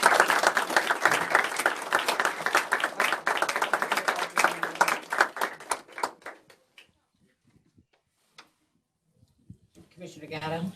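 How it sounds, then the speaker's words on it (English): A commissioner meeting crowd claps for the chief, dense applause for about five seconds that thins to scattered claps and then silence, with voices talking quietly at the end. "why don't we give a round of applause for Chief?"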